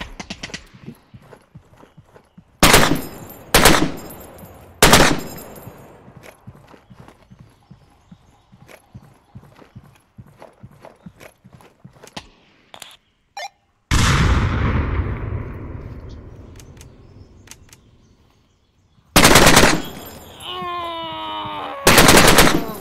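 Gunfire in the VR shooter Onward played on a Vive Cosmos Elite wireless headset: loud, abrupt bursts of shots and blasts stand out between quieter stretches of rapid rhythmic clatter and a long rumbling sweep.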